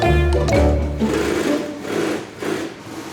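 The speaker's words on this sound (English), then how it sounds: "that's the sound of lots of sewing machines all working at the same time" Many sewing machines whir together in the sewing room of a rucksack factory, a loud, dense mechanical drone with overlapping motor surges and rattling stitching bursts throughout.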